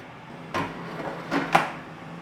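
A drawer on a Cosori Turbo Tower Pro Smart dual air fryer slides shut with a soft scrape and a couple of close plastic clunks, ending in a firmer thud as it seats.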